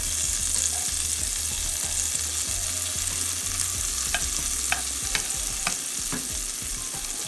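Onions fry in a pot over low heat, giving a steady, even sizzle with a few light clicks of a stirring utensil near the end, close and without talk.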